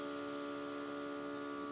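An airbrush spraying aloe-infused makeup gives a steady, close hiss over a constant electric hum, unbroken for the whole short stretch, with no speech.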